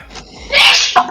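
A single sharp human sneeze bursts out close and loud, preceded by a quick breathy intake.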